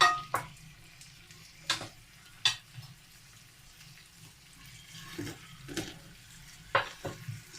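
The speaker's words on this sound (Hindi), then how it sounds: "अब हम इसमें विंग्स डालेंगे जो हमने फ्राई किए हैं।" Fried chicken wings are tipped into a pan and stirred, giving a soft low sizzle broken by several sharp scraping and clattering spatula strokes at irregular intervals.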